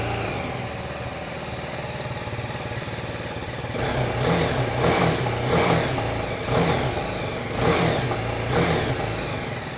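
A stock BS6 motorcycle from 2022 idles with a steady throb, then its engine is revved in four or five short, rising blips close to the microphone.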